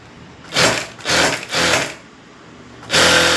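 A sewing machine stitches the lining of a blouse in several bursts of fast, whirring, buzzing runs, with short pauses between them and a final run starting near the end; no one talks.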